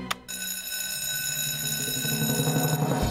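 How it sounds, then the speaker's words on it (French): A fire alarm bell rings continuously at a fire station as a training exercise begins, a steady metallic ringing that starts abruptly after a brief moment and holds loud and unbroken throughout. "Je peux donc déclencher l'alarme."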